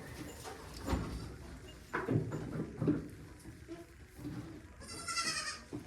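Goats on a small farm bleating in short calls scattered through the clip, mixed with nearby rustling and handling noises and a brief bright hiss near the end.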